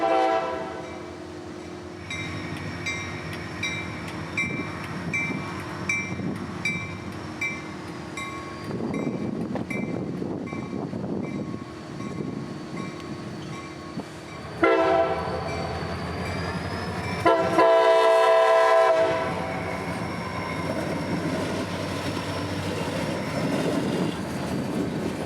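A CSX local freight train on the Aloma line in Central Florida passes at close range. Its horn blasts several times in long sustained tones over a steady rumble of rolling railcars, with one especially loud blast near the end.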